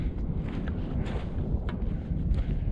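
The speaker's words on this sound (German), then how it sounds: "Der Wind ist kalt" Cold wind sweeps across a sunny snowfield near the Gauthier hut high on Mont Blanc, a steady broadband rushing and buffeting against the microphone that lasts throughout, with no one speaking.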